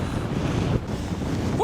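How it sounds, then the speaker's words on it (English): Strong wind on the summit of the Old Man of Coniston in the Lake District buffets the microphone in a steady, roaring rush, loud and close, with no voices. "It's windy up here"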